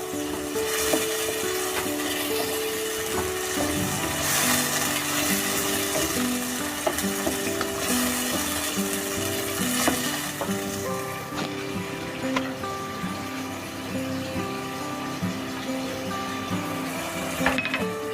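Mutton frying in a pan with onion, garlic and ginger for a white mutton karahi, a continuous close sizzle with scattered stirring clatter, steady and moderately loud.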